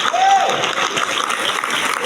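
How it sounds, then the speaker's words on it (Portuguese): Steady applause from a church Bible-study audience, a dense clatter of many hands clapping at even loudness for a couple of seconds, with a brief voice near the start. "Pode aplaudir."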